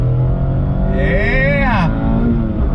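A 2020 Mazda MX-5 RF engine accelerating under throttle on twisty roads, a loud, steady in-cabin drone whose pitch sweeps upward and then back down over a few seconds.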